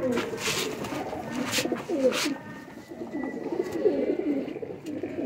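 Rooftop-flown pigeons coo in soft, rolling bursts close by, several birds overlapping in a steady murmuring rhythm with occasional rustles and flutters.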